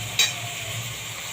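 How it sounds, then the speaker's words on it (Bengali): Chicken pieces hitting a hot pan coated with tomato, soy and chili sauce, a brief stirring clatter followed by a steady soft sizzle of frying. "দিয়ে দিলাম চিকেনটা দিয়ে দিলাম চিকেনটা একটু ভাজা ভাজা হবে"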